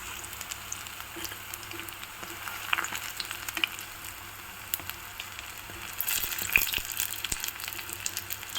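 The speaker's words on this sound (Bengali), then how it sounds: "নিয়ে ভালো করে আমি কিন্তু ভেজে নিচ্ছি" Oil sizzles steadily around jute-leaf fritters frying, with scattered sharp crackles and pops that grow busier toward the end.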